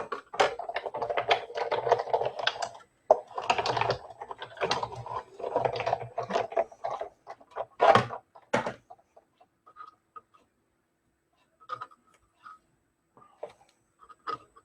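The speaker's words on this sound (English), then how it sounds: "One more pass through and we'll be done with our die cutting." A die cutting machine feeds paper through with close, ratcheting mechanical clicks and grinding for several seconds, then falls to scattered faint taps and near silence.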